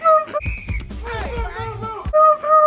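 A voice imitates a teacher's shrill whistle with sharp, high tweets at the start and end, between bursts of animated speech.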